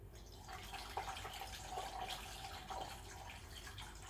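Water pours into the tank of a Breville Oracle BES980 espresso machine, a faint, steady splashing trickle with a few small drips, heard close and without talk.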